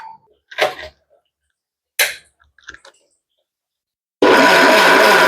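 A mixer grinder whirs loudly and steadily as it grinds coconut with coconut milk and water, starting abruptly after a few short clicks and knocks.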